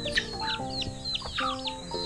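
A mother hen clucking among other chickens, a busy run of short clucks and chirpy calls overlapping, close and fairly loud with no talk.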